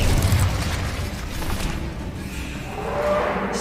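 The Incendio fire spell in the Hogwarts Legacy video game, a loud, sustained roaring whoosh of flame with a heavy, booming low rumble that swells and recedes over a few seconds.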